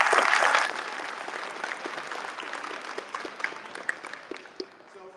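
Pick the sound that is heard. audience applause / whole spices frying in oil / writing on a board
audience applause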